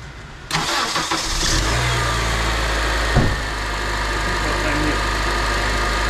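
A Honda Accord Euro CL9, just fitted with a new water pump, cranks briefly and fires up, then settles into a loud, steady close-up idle that runs on without stopping.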